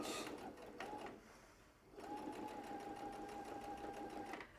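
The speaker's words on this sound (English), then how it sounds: "I'm sewing on the inside so that on the lining, so that I know the line." A sewing machine stitches the lining of a fabric aviator-style over-ear winter hat, running in a fast even whir with brief stops and restarts, close and steady.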